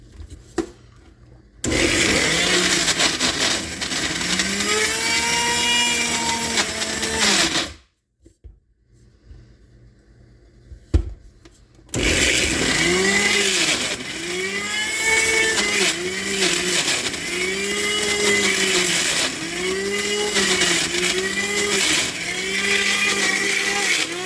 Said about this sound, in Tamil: இன்னும் கொஞ்சம் பிளெண்ட் பண்ணிடலாம்